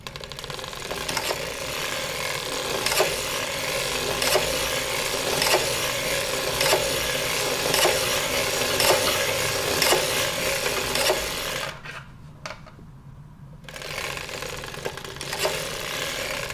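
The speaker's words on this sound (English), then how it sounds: "when you crank around, the sound is going to be minimized" An Erlbacher sock knitting machine being cranked round, a continuous close rhythmic ratcheting clatter of needles and mechanism that stops briefly near the end before resuming, with no voices.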